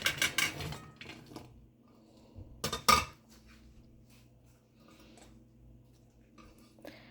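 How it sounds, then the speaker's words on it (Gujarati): Cut okra is tipped into a large bowl with two quick bursts of clattering and clinking, then only faint, sparse taps against a quiet kitchen background. "હવે આ બધા ભીંડાને આપણે અહીંયા મોટા એક બાઉલમાં લઈ લઈશું"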